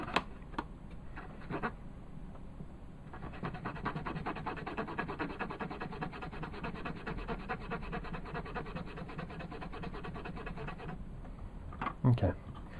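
An NES game cartridge's contacts scrubbed with WD-40 and rubbing alcohol, a close rapid scratchy rubbing that runs steadily for several seconds, framed by a few light taps and clicks at the start and end.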